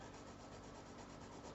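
A Faber-Castell graphite pencil scratches across paper in a soft, continuous, close rubbing rasp.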